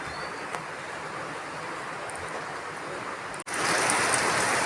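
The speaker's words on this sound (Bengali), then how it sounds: "দেখো বন্ধুরা কি বৃষ্টি পড়ছে" Heavy rain pours steadily behind a house onto a pond and mango trees, a dense, even hiss that swells a little louder near the end, with no talking.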